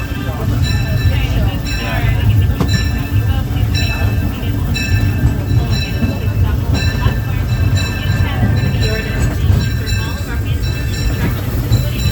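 A Disneyland Railroad train, pulled by steam locomotive No. 1 C. K. Holliday, rumbles along with a steady low roar and faint metallic squeals as it comes to a stop, with a voice speaking over the noise.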